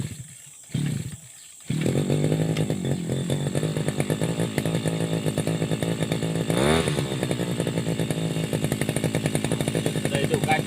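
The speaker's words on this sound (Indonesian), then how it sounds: "kita start engine dulu, hidupkan engine dulu" A small engine, likely a chainsaw-type motor, in a garden gives a couple of brief pulls, then starts and runs loud and steady at close range with throttle changes.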